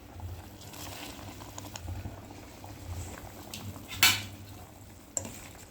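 Mushroom and peanut gravy simmers and bubbles softly in a pot on the stove, a low continuous burble with a sharp clink of a utensil against the pot midway and another faint knock near the end.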